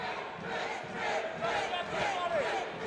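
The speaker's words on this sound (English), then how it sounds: "Great noise from the crowd." A boxing arena crowd roars in a steady, sustained swell of cheering and shouting, loud and continuous throughout.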